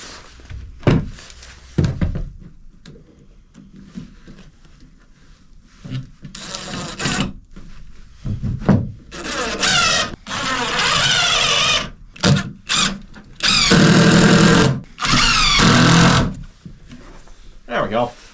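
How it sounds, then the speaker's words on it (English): A power drill drives screws into a fan and tube setup in short bursts of whirring, separated by pauses, clicks and bumps, while people talk in between. "I think we're just going to put the screws in right away."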